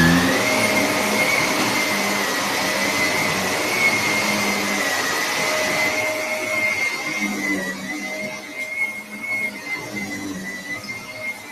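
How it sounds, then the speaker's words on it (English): A vacuum cleaner runs steadily across a rug, a continuous loud motor whine with a high tonal hum that shifts slightly in pitch as it moves, no voices over it. "Then after, I'm going to vacuum the entire space of my rug."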